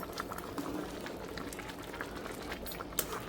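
Dal khichdi bubbling in a pot at a steady boil, a soft continuous burble of popping bubbles heard close up and quietly, with no talking.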